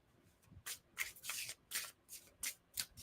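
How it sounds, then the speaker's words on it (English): Tarot cards being shuffled by hand, a series of crisp riffling bursts that come in quick, irregular strokes, close and fairly quiet, with no speech. "I'm like, I just yap and shuffle."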